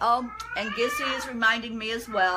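A pet cat meows several times in quick succession, with rising, drawn-out calls close by at moderate loudness, while someone talks over the cries indoors.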